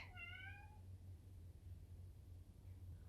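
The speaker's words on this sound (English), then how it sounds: "you're just going to be hearing cats" A cat gives one clear, drawn-out meow near the start, then a low steady hum with faint background noise for the rest.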